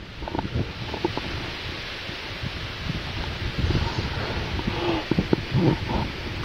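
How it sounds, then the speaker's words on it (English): Steady gusty wind buffeting outdoors in the Carpathian mountains, a rough low rumble of air with rustling, rising slightly stronger toward the end. "It's so windy."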